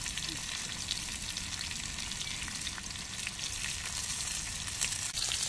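Croaker fish, Mangalore-style masala fry, frying in hot oil on a medium flame, giving a steady bright sizzle and crackle that holds at an even, fairly close level from start to finish.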